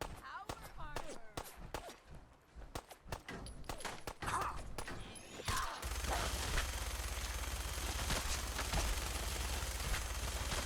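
Minigun fire in Fallout 4 VR, a fast volley of sharp shots over the first few seconds that gives way to a steady, dense roar of sustained fire.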